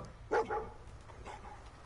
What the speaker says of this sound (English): is that Dogmeat? Dog. Hey, boy, what are you doing out here all by yourself?